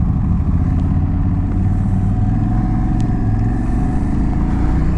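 An Aprilia Tuareg 660 motorcycle slowing to a stop on gravel, its engine a loud, steady low rumble close by with a little wind noise throughout.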